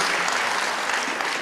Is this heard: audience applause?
yes